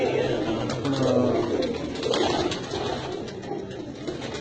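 White pigeons kept in a loft coo softly and continuously at close range, a murmuring chorus of overlapping low calls.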